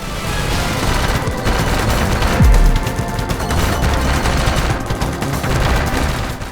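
Dense, continuous gunfire and explosions in the vertical shmup Devil Blade Reboot, with rapid shots layered over booming blasts, including one deep bomb drop near the middle, loud throughout with no voices.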